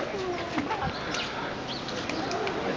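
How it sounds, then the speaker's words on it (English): Birds near the Huldah Gate at the Western Wall area in Jerusalem, with soft cooing and brief chirps and wing flaps over steady outdoor background noise; no clear talk. "Look at birds."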